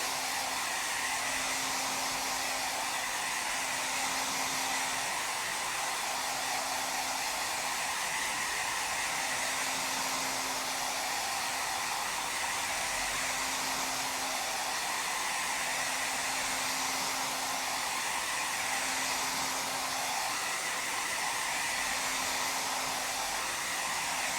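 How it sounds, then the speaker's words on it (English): A hair dryer blows continuously over a repaired leather seat scuff with a steady airy roar and faint pitch shifts as it moves, close and loud, with no talking. "remove those by wafting the hairdryer over it, just to force the air out"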